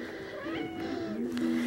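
A house cat meows in drawn-out, wavering cries that slide in pitch, fairly close and loud, with a couple of overlapping calls through the short span.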